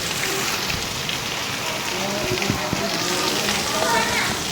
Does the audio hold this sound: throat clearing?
no